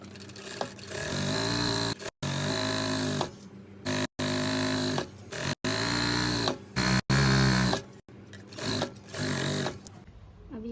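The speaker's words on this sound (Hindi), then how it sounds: "अब ये पट्टी को हम सिलाई लगाएंगे" A sewing machine stitches a half-inch seam along a fabric strip in loud, close bursts of rapid mechanical chatter, each run separated by short pauses and stops.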